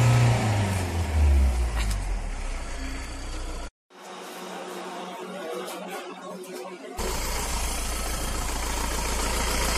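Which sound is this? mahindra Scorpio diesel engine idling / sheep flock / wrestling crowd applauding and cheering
mahindra Scorpio diesel engine idling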